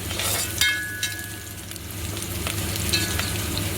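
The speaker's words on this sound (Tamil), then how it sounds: "எண்ணெய் ஊற்றிட்டேன் வெங்காயம் போட்டு வதக்கி நிற்கிறேன்" Onions sizzle in hot oil for a quail gravy, a steady close crackling fry with a few sharp clinks of a utensil against the pan.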